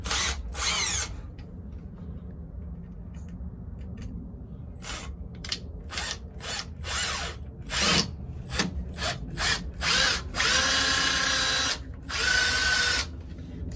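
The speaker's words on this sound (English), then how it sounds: "you gotta drill it in one of those holes" A power drill whirs in repeated short bursts, then longer runs, close up, drilling into a stucco wall, with brief pauses between each trigger pull.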